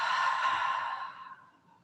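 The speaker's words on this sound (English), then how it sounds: "part your lips, deep exhale out" A deep exhale through parted lips during a yoga flow, one long, close, breathy release that fades out at the end, with no words spoken.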